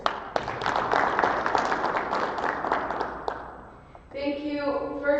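Audience applause at a Colorado congressional candidate forum, steady clapping for about four seconds that tapers off, followed by a voice speaking.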